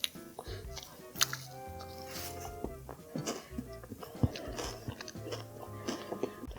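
A crunchy protein bar studded with brown rice cereal is bitten and chewed up close, sharp crisp crunches repeating irregularly at a quiet level with no talk over them.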